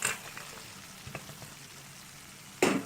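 Fried potatoes and anchovies for a Malaysian sambal tip into the pan with a soft sizzle and light crackle, and a louder rush of frying comes near the end.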